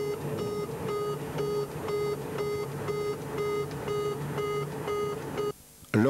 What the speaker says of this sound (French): il se produit l'émission d'un signal sonore accompagné de l'allumage de la lampe verte